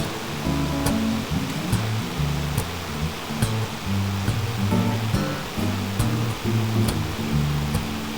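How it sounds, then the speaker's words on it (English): A large waterfall on the Appalachian Trail in Connecticut roars in a steady, broad rush of falling water, loud and continuous with no voices over it. "now we're looking at this big waterfall here, which looks like a popular tourist destination"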